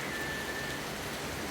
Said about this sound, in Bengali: আমার খুবই ভালো লাগতেছে কারণ আজকে বৃষ্টি পড়তেছে